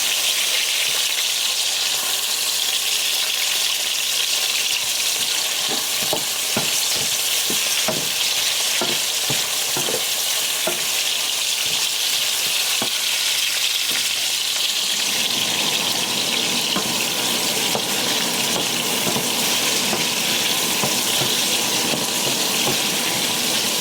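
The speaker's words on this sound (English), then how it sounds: "I have to saute the onion a little bit" Onion sautéing in a hot pan for a potato noodle dish, a steady broadband sizzle with intermittent scraping stir strokes early on, then a louder, denser frying hiss in the second half, close and continuous with no talking.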